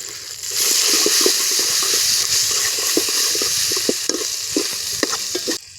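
Garlic, ginger and crushed shallots sizzle steadily in a hot pan, with a broad hiss and intermittent scraping clicks of stirring, close and fairly loud, no voices.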